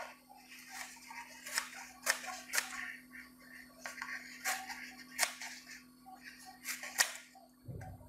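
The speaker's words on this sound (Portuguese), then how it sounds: "É só pegar a tesoura." Scissors snip through a paper stencil in a series of sharp, irregular clicks, about a dozen close, quiet cuts over a low steady hum.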